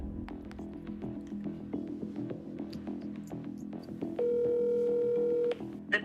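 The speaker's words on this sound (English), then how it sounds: "let's see if she'll answer the phone" A telephone call in progress: a quiet line with scattered clicks, then a steady tone that holds for over a second before cutting off.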